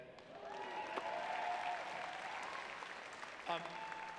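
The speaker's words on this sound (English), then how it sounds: "the way you're all cheering and screaming" A graduation audience at a UCLA student-athlete ceremony applauds and cheers at a distance, a sustained wash of clapping with whoops rising over it and a voice speaking on top.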